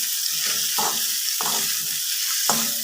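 Egg noodles sizzling in a hot pan as they are stirred, a steady frying hiss broken by several scraping strokes of the spatula, close and loud with no voices.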